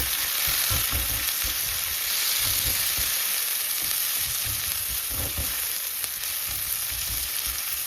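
Tomato sizzling in a hot pan for seafood paella, a steady close crackling fry with bubbling, continuous throughout with no talk.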